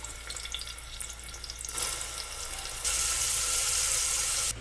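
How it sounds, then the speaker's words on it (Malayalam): Sliced onions sauté in oil inside a pressure cooker, a soft, continuous hiss that swells louder partway through. "ഓൾറെഡി സവാള വഴന്നുകൊണ്ടിരിക്കുകയാണ്"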